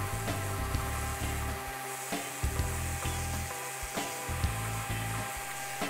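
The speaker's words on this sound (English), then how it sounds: "I use a fine grit sandpaper into my random orbit sander to clean up any black" A random orbit sander fitted with fine grit sandpaper works over a walnut surface, giving a steady close whirring drone with small irregular bumps as the pad shifts, running continuously throughout.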